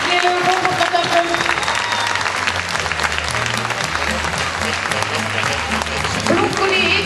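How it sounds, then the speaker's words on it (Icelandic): Steady applause and some cheering from a crowd at an outdoor youth sports event, honouring a girls' football team; the clapping is dense and continuous throughout, with a faint voice underneath. "Og við erum að klappa fyrir þessum"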